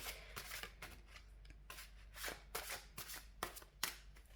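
A deck of tarot cards is shuffled again and again in a quiet room, crisp riffles and flicks in short bursts, close up and soft.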